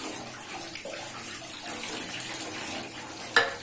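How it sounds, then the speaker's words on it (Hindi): Tap water runs steadily over beef trotters being rinsed for paya, a soft continuous splashing close by with a brief louder splash near the end. "थोड़ा सा धो लूंगा, अच्छे से वॉश कर लूंगा।"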